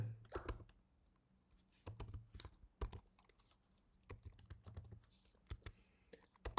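Registration details are typed on a computer keyboard, with quiet, close key clicks in irregular bursts and short pauses, while faint speech is heard in the background.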